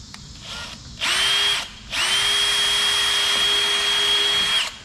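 A power drill bores holes into a plastic ZR1-style spoiler on a C6 Corvette Grand Sport, two close, loud bursts of steady whining motor, a short one and then a longer sustained run.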